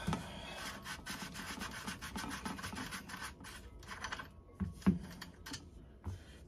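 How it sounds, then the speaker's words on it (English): Steady rhythmic rasping of sandpaper rubbed back and forth by hand, close and fairly quiet, with a few louder knocks near the end. "a very little bit goes a long way with sanding this"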